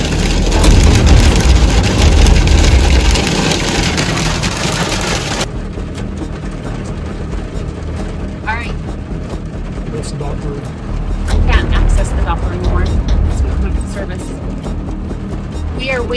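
Heavy rain and hail drumming on a stopped vehicle during a storm on a muddy homestead road, a loud, dense, steady roar with an engine rumbling underneath and voices talking over it.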